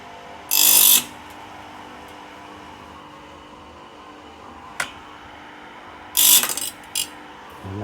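Sharp ratcheting clicks burst out twice from a band saw blade sharpening machine as it feeds down, against a quiet mechanical hum, with a couple of single metallic ticks between them.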